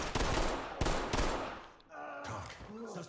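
Pistol shots fire in the tactical shooter Ready or Not: a few loud, sharp cracks in quick succession, followed by quieter game sounds and faint talk.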